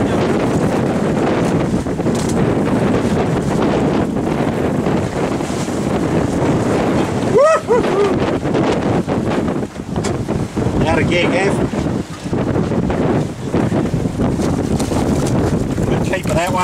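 Wind roars across the microphone on the deck of a fishing boat jigging off Stephens Island, New Zealand, with waves crashing and water washing over the deck in a loud, continuous rush, while voices are heard under it.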